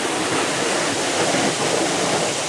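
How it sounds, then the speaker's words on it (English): Water surging down a channel at a waterside park in Parque das Nações, Lisbon, a wave washing through with a loud, continuous sploshing rush that fills the whole stretch without letup. "There's some big sploshy noises coming from down there"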